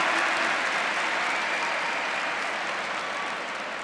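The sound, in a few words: congregation applauding at a church youth service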